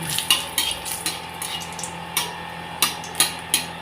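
Dried red chillies fry in hot oil for a pumpkin-greens dish, giving a steady close sizzle broken by several sharp clinks and scrapes of a utensil stirring in the pan.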